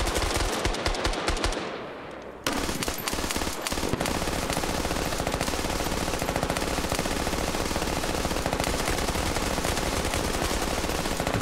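Sustained rapid machine gun fire in the military shooter game Squad, a dense unbroken stream of shots after a brief lull near the start, loud and close, with no talk over it.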